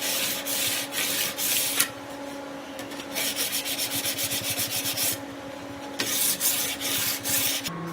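A coarse old sandpaper belt rubs by hand along a hand-forged pata sword blade in repeated scraping strokes, with short pauses between bursts, close and fairly loud.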